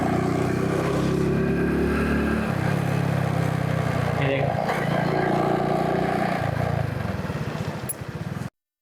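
A Honda Pridor motorcycle rides along a Karachi road, its small engine droning steadily and close with gear shifts and traffic around, while someone speaks briefly over it.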